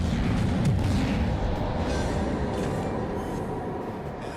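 Heavy battleship turret guns fire in a naval video game, a deep, sustained rumbling boom that rolls on loudly and slowly fades.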